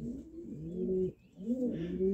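A pigeon coos twice in soft, rolling phrases with a brief pause between, close by and otherwise quiet.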